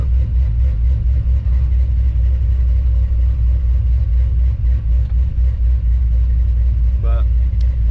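A pickup truck engine idles steadily just after startup, a continuous low rumble heard up close with no revving, and a brief faint sound near the end.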